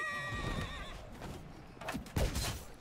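A horse whinnies clearly at the start in the video game Conqueror's Blade, followed by thuds and scuffling movement sounds in a busy battle scene.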